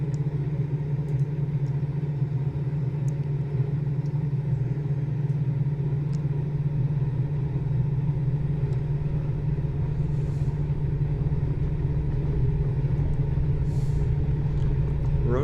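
A Quest Kodiak turboprop in a flight simulator runs at takeoff power, giving a steady, loud, unbroken drone with a strong low hum and almost no change throughout.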